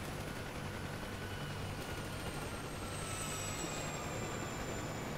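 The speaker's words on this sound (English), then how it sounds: "That sounded like another chopper." A UH-1H Huey helicopter in the DCS World flight simulator, heard as a continuous broadband rotor and turbine roar that stays steady and dense for several seconds, with no voices.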